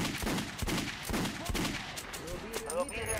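Gunfire at target dummies on a shooting range in the video game Metro Last Light, a run of sharp repeated shots spaced through the clip over a steady din, with brief voice sounds in the mix.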